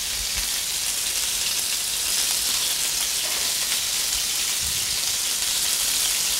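Pre-cooked Portuguese chouriço sausages sizzle and spit in a hot pan, a loud, continuous, rain-like crackle with a few low thumps and no one talking.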